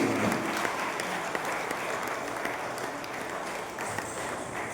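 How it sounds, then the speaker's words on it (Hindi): Audience applause after a recited verse, steady and fairly loud throughout, a continuous patter of many hands with no talk over it. "जोरदार तालियां बजनी चाहिए लोग।"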